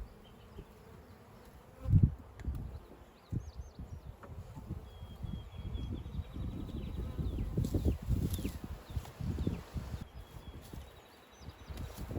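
A steady low buzzing of a honeybee swarm fills the air, swelling and fading as bees pass near, with occasional faint bird chirps in the background.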